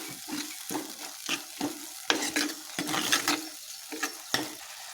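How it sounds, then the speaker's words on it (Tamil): A spoon stirring moong dal sambar ingredients with coriander powder in a frying pan, a quick series of scraping, sizzling strokes close up and fairly soft, with no talking. "நல்லா மிக்ஸ் பண்ணி வச்சுடுங்க."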